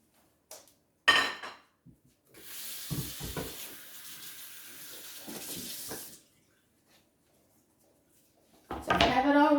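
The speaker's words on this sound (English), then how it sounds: "I'm going to rinse off our rinse off our cutting board" Tap water runs steadily onto a cutting board being rinsed in a kitchen sink for a few seconds, framed by brief clunks and knocks of the board being handled before and after.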